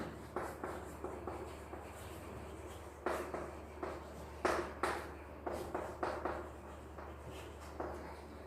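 A pen writes a formal letter by hand, with short scratchy strokes in irregular bursts, soft and close in a quiet room with a faint steady hum underneath.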